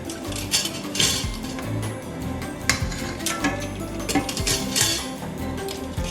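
Hard-boiled eggs are lifted out of an Instant Pot into a bowl of ice: metal utensils clink and scrape against the pot and bowl, with repeated close, sharp knocks.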